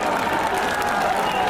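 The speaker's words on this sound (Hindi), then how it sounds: "उधर जोरदार ताली बजाइए।" Dense, steady applause from a large crowd at an outdoor political rally in Haldharpur, with Omprakash Rajbhar and Akhilesh, filling the whole moment evenly without breaks, with some voices mixed in.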